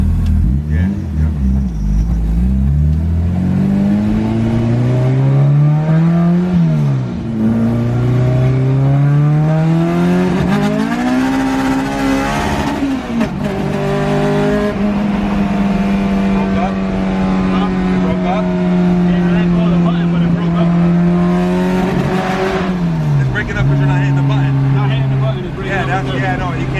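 A K-swapped Honda Integra DA with a new fuel cell revs hard and pulls through the gears, its engine note loud and close, climbing and dropping in pitch across a sustained run with brief shift dips.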